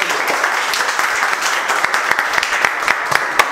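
A room full of students in a mobile phone repair class gives a burst of enthusiastic clapping, dense and close, with a few sharper individual claps standing out as it continues.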